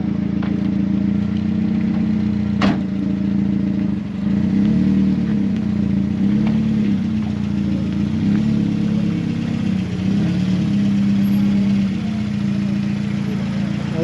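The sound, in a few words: Mazda Miata race car engine and exhaust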